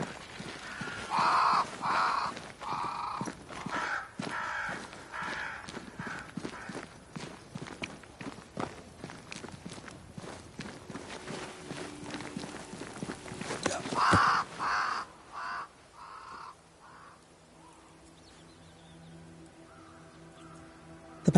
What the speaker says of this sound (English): They flock to that great tree up there.